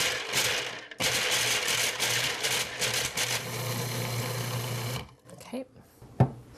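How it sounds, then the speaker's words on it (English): A food processor grinds almonds into fine powder for a raw vegan dish, its loud motor whirring for about five seconds with a brief stop near the first second, then a few quieter clatters. "So we'll start by popping our almonds into the food processor, and we're just going to pulse it until it's a fine powder."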